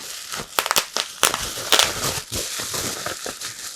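Crinkly plastic bubble-wrap air bag protecting a glass container, squeezed and handled up close, with irregular crackling and rustling bursts.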